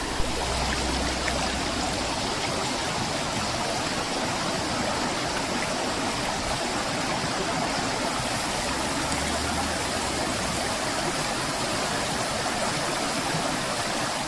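A river flows steadily through the wooded Rivelin Valley near the old corn mill site, a continuous close rushing and splashing wash with no voices.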